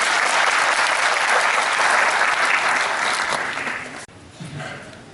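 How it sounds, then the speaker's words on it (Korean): A seminar audience of private academy educators in Gumi, South Korea claps loudly and continuously for about four seconds, then the applause fades and a voice begins speaking. "다시 한번 최종훈 부시장님께 뜨거운 박수 부탁드리겠습니다"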